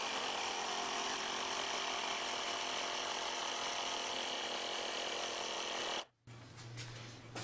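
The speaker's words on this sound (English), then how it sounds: "now I'm gonna fill it up with my automatic compressor" An automatic air compressor fills a homemade compressed-air can with a loud, steady hiss and motor drone that cuts off abruptly near the end, followed by a lower hum.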